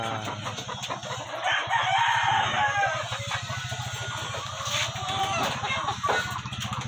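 Backyard chickens cluck in a busy, overlapping chatter with a rooster crowing amid the flock, close by and steady, with a low rhythmic hum running beneath.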